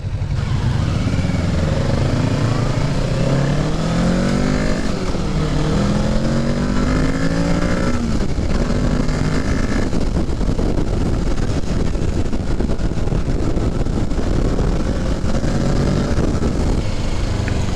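A 2023 Kawasaki Ninja 650 being ridden, its engine note stepping down through rising and falling pitch sweeps as the rider downshifts, steady and close with heavy wind rush over the microphone throughout.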